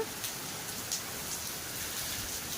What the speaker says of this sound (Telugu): దంచి కొడుతుంది వర్షం అయితే చాలా భారీగా వస్తుంది వర్షము